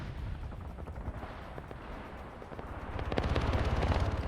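Rapid video-game gunfire from a helicopter strafing infantry in a military wargame, a dense crackling burst that swells louder toward the end over a steady rumble.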